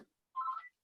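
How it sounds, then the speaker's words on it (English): A phone rings once with a single short electronic chirp, faint and clear against near silence, with no talking over it. "Hold on, because my phone's going to keep ringing."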